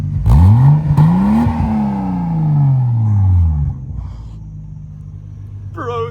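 A Toyota Supra Turbo engine revs hard through an aftermarket exhaust, rising in two sharp blips, then holding a long, loud, deep drone that winds down to a rumbling idle. A brief voice comes in at the very end.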